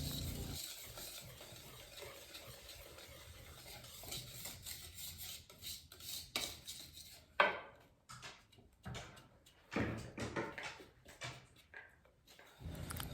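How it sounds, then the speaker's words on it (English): Cake batter for a rosemary orange olive oil cake whisked in a bowl, an irregular run of quick close scraping strokes and taps that pause and resume, with no talk. "Then you whisk it all together until it's a nice,"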